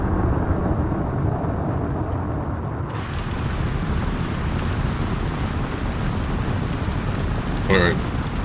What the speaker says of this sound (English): As you can see, takeoff in the rain